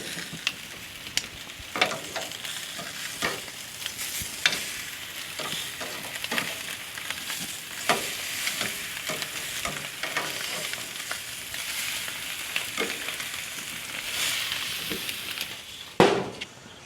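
Dry-brined rib eye steaks searing in a reverse-sear cook give a steady, loud sizzle and crackle with sharp pops scattered throughout, and a louder burst of spatter near the end; no voices.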